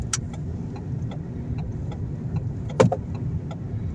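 A car with an automatic gearbox slows on its own by engine braking, its engine giving a low, steady rumble with a few small ticks and one brief click.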